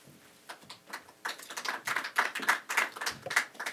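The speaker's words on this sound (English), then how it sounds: "Thank you for that smattering of applause." A small audience at a labor panel gives a sparse smattering of applause, a few scattered individual claps building slightly over a few seconds, close and uneven.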